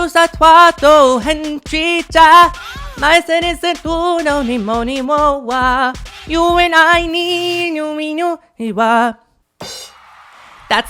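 A female singer's melodic pop vocal line, close and clear in short phrases, ending in a brief pause and faint trailing sound.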